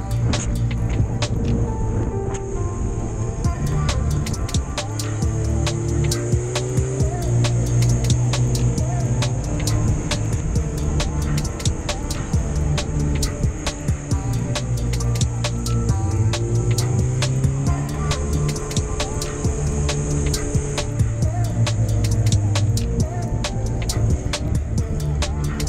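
Motorcycle riding on a sunny road in the Vosges, its engine drone steady and close for the full length, with wind and rhythmic ticking mixed in and no talk.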